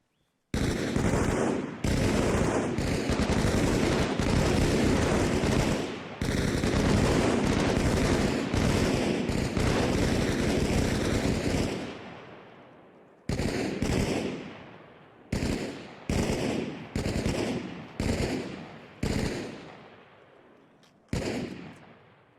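Sustained automatic gunfire on a firing range in the video game Arma Reforger, a dense continuous burst of shots for about twelve seconds, then several separate short bursts with brief gaps between them, loud and close.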